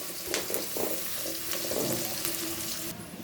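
Chopped onion, garlic and green chili fry in oil with a steady moderate sizzle, punctuated by a few soft stirring or clinking sounds.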